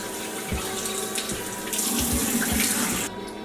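Tap water runs steadily into a sink while a face is washed, a continuous splashing stream with soft bumps of hands in the flow, close and fairly loud with no talking.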